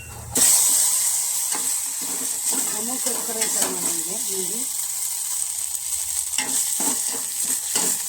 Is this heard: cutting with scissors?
no